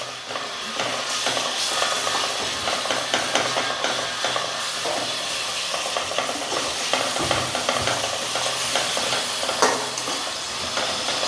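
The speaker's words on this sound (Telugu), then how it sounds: "దీన్ని బాగా కలుపుకున్నాను" Ginger garlic paste being stirred into mutton in a hot pan, a constant close sizzle and frying hiss with irregular scraping stir strokes throughout, no talking.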